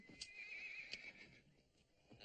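A horse neighs in a long wavering whinny, faint and somewhat distant, with a few soft hoof clops and low background noise around it; no talk.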